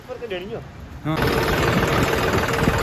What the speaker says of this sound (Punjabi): ਦੇਖੋ ਟਰੈਕਟਰ ਹੀ ਟਰੈਕਟਰ